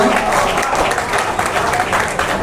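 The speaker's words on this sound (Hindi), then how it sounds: "दो हाथ उठाकर तालियां बजाएं" Audience applause at a Hindi poetry recital in Delhi, a dense, steady wash of clapping from a crowd that fills the whole moment without pause.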